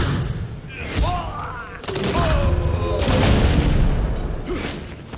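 Gunfire in a Gotham Knights fight, with heavy bursts of shots and booming thuds layered over game voices speaking throughout.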